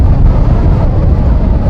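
Strong wind buffets the microphone in rugged, remote Icelandic terrain, a loud and constant low roar with no other sound standing out.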